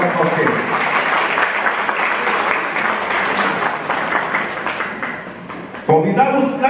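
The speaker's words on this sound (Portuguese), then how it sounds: "convidamos a senhora Carla Adriane Teixeira, com os aplausos de todos vocês" A gathering at a municipal chamber ceremony in Montes Claros gives loud, sustained applause to welcome Carla Adriane Teixeira. The applause runs steadily for several seconds, then a voice begins speaking over it near the end.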